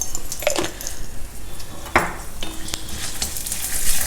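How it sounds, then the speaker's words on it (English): Urad dal, dry red chilies and hing frying in a little oil in a pan, a constant close sizzle with a utensil stirring and clinking against the metal a few times, no speech. "Fry all these till the dals become a golden color."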